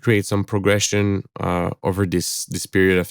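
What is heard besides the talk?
None of the usual background noises is heard.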